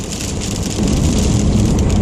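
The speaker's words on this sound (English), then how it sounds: "Lots of rain. Which I know sounds awful on the camera." Heavy rain drums steadily and loudly on an MG GS car, a dense continuous patter with a low rumbling wash underneath, growing slightly stronger partway through.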